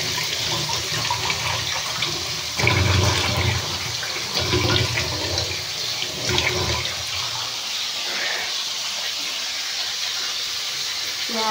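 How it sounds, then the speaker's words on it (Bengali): Tap water runs steadily into a sink as hands are washed in a home kitchen, a close continuous rushing splash that surges a few times as the hands move under the stream. "এরপর আমি হাতটা ধুয়ে নেব।"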